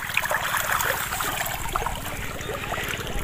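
Water gushes steadily from a farm borewell pipe into a field, a close, continuous splashing rush with a low rumbling undertone and no voices.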